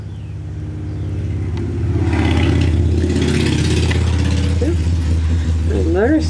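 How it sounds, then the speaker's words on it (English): A motorcycle passes by outdoors, its engine rumble swelling and holding at a loud, throaty level before a voice briefly breaks in near the end. "A motorcycle just went by."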